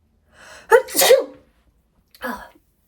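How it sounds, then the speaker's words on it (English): A single loud sneeze with a sharp intake beforehand, followed after a pause by a shorter, softer second burst. "I feel like I gotta sneeze."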